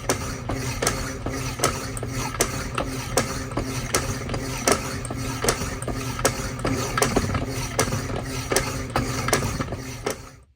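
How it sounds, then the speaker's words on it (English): A bandsaw cuts a piece of stock for a custom water meter radio adapter in a workshop, giving a steady mechanical whir with regular rhythmic ticks and clicks throughout, continuous and fairly close, with no talk. "Off to the bandsaw."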